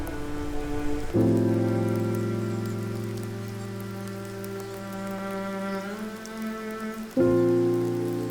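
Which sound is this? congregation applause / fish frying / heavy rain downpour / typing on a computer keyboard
heavy rain downpour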